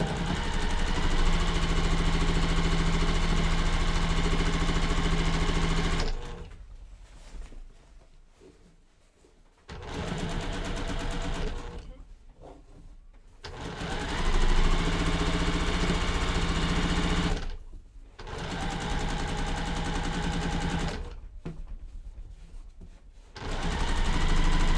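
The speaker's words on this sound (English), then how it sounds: "I'm going to go ahead and slowly stitch over the pins." A sewing machine stitches quilt block seams in bursts, its quick mechanical whir running steadily for several seconds and then stopping, with quiet pauses between stretches of stitching.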